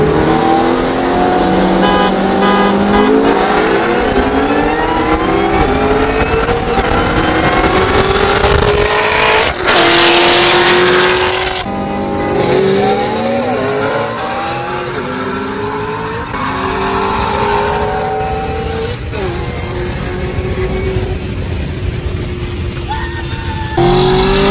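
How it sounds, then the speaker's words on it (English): A McLaren and a Ford Mustang GT500 race side by side, engines revving hard through rising gear sweeps with tire squeal, loud and close throughout; a brief harsh burst sits midway. "McLaren versus Mustang GT 500."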